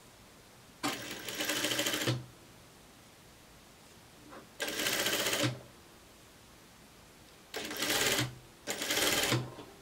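A sewing machine stitches a garment neckline in four separate bursts, each lasting about a second, with quiet pauses between them. The bursts sound fairly close and steady.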